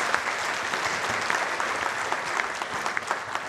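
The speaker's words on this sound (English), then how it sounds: "please join me in thanking and applauding the panelists for sharing their thoughts." An audience applauds panelists at AIMA's 60th Foundation Day event, a dense, steady round of clapping from a full hall that holds for the whole stretch without voices.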